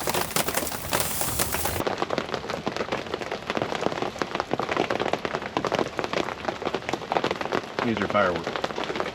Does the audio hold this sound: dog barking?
no